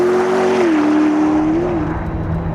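A McLaren P1 hypercar with 903 horsepower accelerating hard, a loud, close, continuous engine roar whose pitch rises and dips briefly as it pulls, with no talk.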